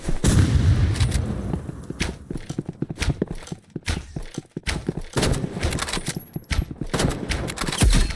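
Rapid gunfire in the Roblox game Rivals, dense bursts of shots that fade out and then resume, with player chatter in between.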